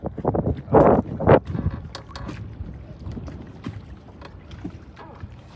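Gusty wind buffets the microphone outdoors on open water at Reelfoot Lake, with a few louder bursts early on and a steady rumbling roar after.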